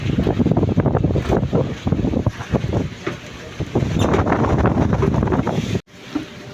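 Steady, loud wind roars and buffets the microphone in Cebu, with a rumbling low hum beneath and brief gusty surges before a sudden drop near the end.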